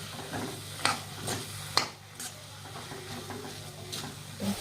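Potato samosa filling, salted, is stirred and mixed in a pan with a few sharp scrapes and clinks over a soft sizzle, close and fairly quiet.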